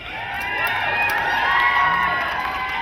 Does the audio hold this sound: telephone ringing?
no